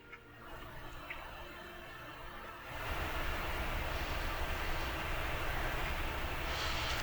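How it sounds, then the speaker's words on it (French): Small airplane taking off, with a steady engine drone that swells suddenly into a louder, fuller roar partway through and holds there, with no voices. "Donc là, on voit un décollage."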